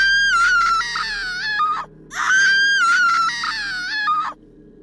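A woman's gut-wrenching, high-pitched screams, two long anguished wails with a brief break between them, loud and close over a low background rumble.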